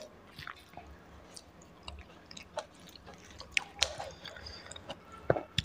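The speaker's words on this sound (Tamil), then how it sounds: "நல்லா இந்த ரைஸை போட்டு நல்லா பிசைஞ்சிட்டு அப்படியே சாப்பிட்றோம்" Wet chewing and squishing close to the mic as rice mixed with tangy egg gravy is eaten by hand at a seafood mukbang, with soft smacks and a few sharper clicks, no talking.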